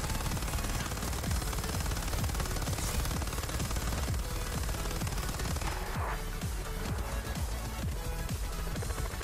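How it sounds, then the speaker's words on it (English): Dense, continuous video game gunfire, rapid overlapping shots forming a steady loud clatter throughout, with no talking. "What are you shooting at?"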